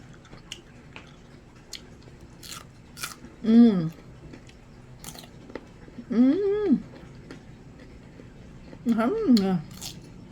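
Crunchy Red Lady papaya bitten and chewed up close, three loud wet crunching bursts spaced a few seconds apart, with quiet pauses between.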